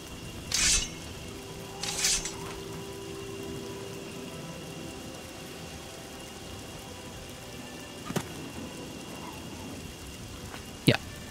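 Rain falling in the video game Oblivion, a steady soft hiss of rainfall throughout, with a few brief sharp bursts and clicks rising above it.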